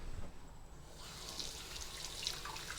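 Tap water runs steadily into a sink while potatoes are washed, a soft continuous splashing rush with a few brighter spatters from the second second onward, no talk.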